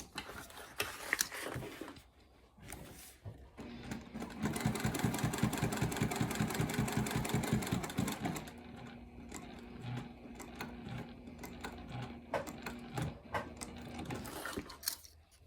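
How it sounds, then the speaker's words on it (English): A sewing machine stitching around all four edges of a leather-style Triskele wallet from the front side: quiet handling noises, then a steady rapid burst of needle strokes for several seconds, followed by slower intermittent mechanical clicking and a faint hum. "I'm going to go to the machine, and from the front side, I'm going to stitch around all 4 edges"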